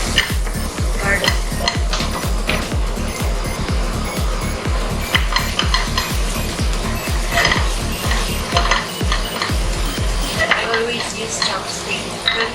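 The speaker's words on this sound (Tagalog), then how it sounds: "Let's add our garlic." Garlic sizzles loudly in hot oil as it is stir-fried with chopsticks for a pork stew with eggs, steady frying hiss with rhythmic scraping and tapping against the pan.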